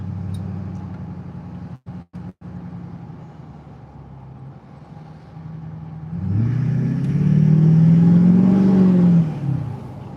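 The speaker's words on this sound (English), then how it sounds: "The sounds on Fords are crazy. The turbos that they got on those things" A Ford car's turbocharged engine idles with a low steady hum, then revs up loudly, the pitch climbing and holding before easing off, heard close with no talking.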